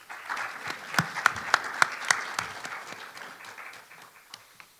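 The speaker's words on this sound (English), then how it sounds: "So, all right, please welcome BREWSTER with a round of applause." A conference audience applauds steadily, dense clapping with a few sharper claps standing out, then gradually thinning and fading toward the end.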